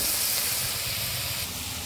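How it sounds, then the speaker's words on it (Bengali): Potatoes with salt and turmeric frying in hot oil, for a spicy prawn curry, give a steady, loud broadband hiss with no talk. "এই তেলের মধ্যেই আলুগুলো সুন্দর করে ভেজে নেব।"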